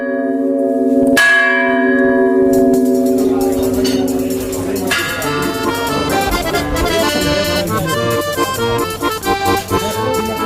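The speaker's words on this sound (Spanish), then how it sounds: "las campanas de la iglesia volvieron a doblar en recuerdo a las víctimas" Church bells toll in the village of Ribadelago in memory of flood victims, loud and close, several ringing strikes layering into a dense, resonant clang that builds and sustains throughout.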